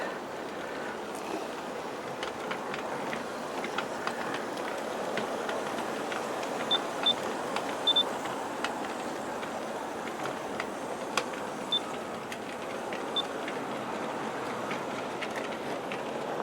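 A G scale 1/29 D&RGW model train with a long 40-car consist runs steadily at reduced speed, giving a continuous low rolling rumble with faint clicks and a few small high ticks, alone without talk.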